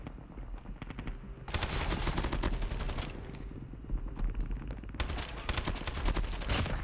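Rapid automatic gunfire from the Call of Duty Mobile battle royale video game rattles in two long loud bursts, with dense overlapping shots and a brief lull between them.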